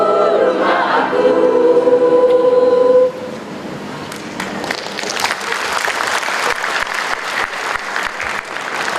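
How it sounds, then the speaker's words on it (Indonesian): Audience applause at the 9th STMIK-Poltek Palcomtech graduation ceremony in the Aryaduta ballroom, after a few seconds of music. Steady, full clapping from a large crowd then continues to the end. "Boleh tepuk tangannya sekali lagi."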